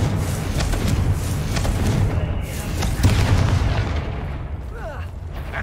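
A Confringo fire spell explodes in a video game, a loud, dense, booming blast with rumbling low crackle that sustains for several seconds, followed by a whooshing tail.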